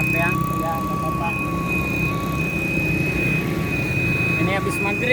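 A putu cake seller's steamer lets out a thin, continuous steam whistle with a wailing, crying tone, steady over a busy street after dusk with traffic and people talking nearby.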